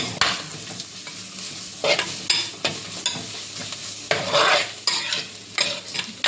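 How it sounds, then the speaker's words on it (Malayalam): Rhythmic scraping of a spoon stirring turmeric powder frying in a pan for chicken curry, with a steady frying sizzle underneath and repeated louder scrapes. "മഞ്ഞപ്പൊടി ഇട്ട് നന്നായിട്ടൊന്ന് വറുത്തെടുക്കാം"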